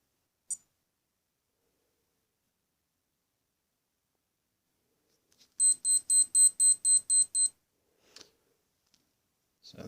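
A single brief chirp, a pause, then eight quick, evenly spaced high-pitched electronic beeps from a Timex Ironman Triathlon digital watch alarm, close and clear, with faint clicks afterward.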